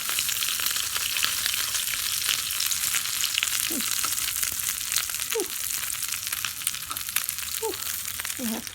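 Food sizzles and crackles steadily in a hot steel pan, a loud continuous frying hiss with a few faint squeaks now and then, no talking.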